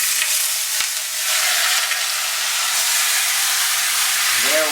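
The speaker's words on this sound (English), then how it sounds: "Okay, folks, our beef is browning over at the stove" Beef browning in a frying pan on a home kitchen stove gives a loud, steady close-up sizzle with a dense hiss that holds evenly throughout, and no talking.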